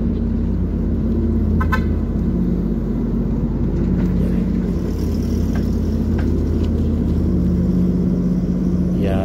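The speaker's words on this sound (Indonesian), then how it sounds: "Didahului oleh mobil pemandu ya." Guide car leading a bridge girder transporter out of a tunnel on the Indonesian high-speed railway project, with a steady engine rumble and a few short horn toots sounding close and loud.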